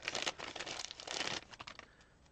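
A small plastic bag of craft items crinkles and rustles as things are pulled out, close and crisp bursts of crackling that taper off toward the end.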